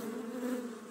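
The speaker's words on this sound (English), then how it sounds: "The buzzy bees left the field and buzzed all around Thomas." A swarm of bees buzzes in a close, continuous hum, alone and steady for a brief moment.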